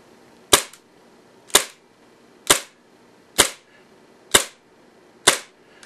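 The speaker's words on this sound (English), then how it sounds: "I'm going to hold down on the mag, the slide catch, and do a couple of shots with this." An airsoft TT-33 green gas pistol fires six evenly spaced blowback shots, each a crisp, close, snappy crack with a short metallic slide clack, alone with no talking.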